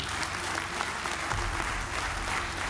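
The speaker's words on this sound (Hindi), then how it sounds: "एक बार जोरदार ताली होगी।" Dense, loud applause from a large audience at a motivational talk in India, a continuous roar of many hands clapping with a faint murmur of the crowd beneath.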